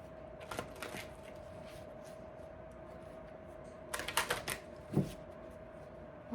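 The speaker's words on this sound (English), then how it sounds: "Let's pull one card from the Saints and Angels deck." A tarot deck of Saints and Angels cards is shuffled, giving soft brief riffling clusters over a faint steady hum, with quiet gaps between the bursts.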